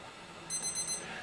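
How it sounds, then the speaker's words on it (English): A kitchen egg timer rings while eggs boil for curried egg sandwiches: a bright, metallic ring about half a second long rises over quiet room tone, close and moderately loud, with no talking. "There's the egg timer."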